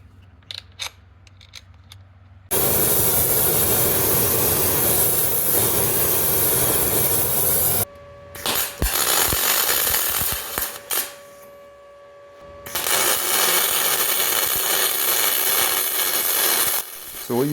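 Welding on a cracked aluminum boat hull at 20 volts, long loud crackling hiss bursts that stop and start between short tacks, close up.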